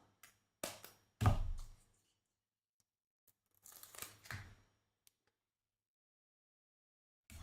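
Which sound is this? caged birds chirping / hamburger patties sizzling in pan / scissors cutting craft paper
scissors cutting craft paper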